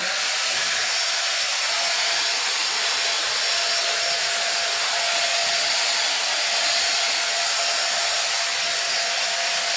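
A handheld hair dryer from Action runs in a continuous, loud, even airy roar for the whole stretch, close by with no talking.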